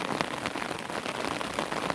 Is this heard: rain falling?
yes